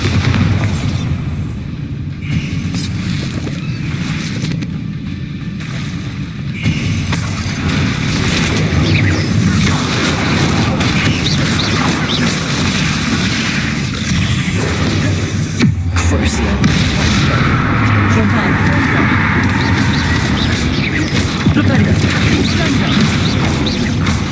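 Bombarda explosion spell in Hogwarts Legacy, heard within a dense, loud stretch of game combat: repeated crashes and booming blasts over continuous background noise, with a sharp break around the middle.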